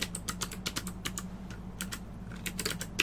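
Ruby code is typed on a computer keyboard in a lecture setting: a quick, uneven run of close clicking keystrokes with brief pauses, over a low room hum and no speech.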